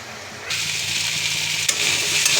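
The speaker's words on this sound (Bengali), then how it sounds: "প্রথমে আমি কড়াইতে হালকা তেল দিয়ে পুঁই শাকগুলোকে তুলে দিয়েছি, হালকা নাড়াচাড়া করে নেব।" Malabar spinach leaves frying in a little oil in a wok, with a loud, steady hiss that starts abruptly and continues under light stirring.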